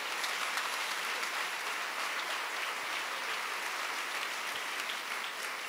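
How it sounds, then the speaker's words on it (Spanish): A church congregation applauds during a sermon, steady dense clapping held at an even level throughout, fairly distant and alone with no voices. "denle un aplauso al Rey bendito, hermano"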